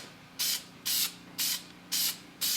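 Five evenly spaced bursts of hissing aerosol spray as Dupli-Color vinyl and fabric paint goes onto a car interior piece in light coats, each about a third of a second, close and alone.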